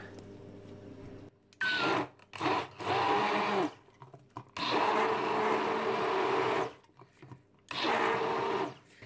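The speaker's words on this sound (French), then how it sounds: "Et je vais mixer le tout à l'aide du blender." A kitchen blender whirs through ginger with a few drops of lemon, running in several loud bursts of about one to two seconds with short pauses between, ending on a longer steady spin.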